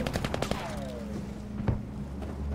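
Machine gun nest firing in the Battlefield V video game: a rapid burst of loud, close gunfire at the start, then scattered shots and explosion-like thuds over a steady low rumble.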